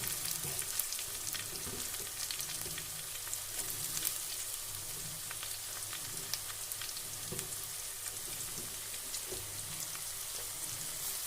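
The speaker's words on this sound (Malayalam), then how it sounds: "നമ്മൾ സവോള വെളുത്തുള്ളി മുളക് എല്ലാം കൂടെ ഇടുവാണ്" Onion, garlic and chili frying in a pan give a steady, fairly quiet crackling sizzle with scattered pops, continuous throughout and without talk.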